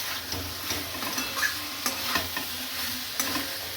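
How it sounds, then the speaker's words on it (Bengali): Sizzling and stirring of pointed gourd and potato sautéing with spices in a pan, with scraping clicks from a spatula at irregular intervals, close and steady, no voices. "এবার আমি পটল আলুটা দিয়ে আরেকটু কষিয়ে নেব"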